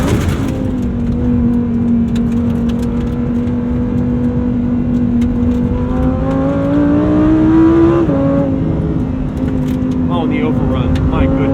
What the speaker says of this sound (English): The overrun. My goodness, the overrun.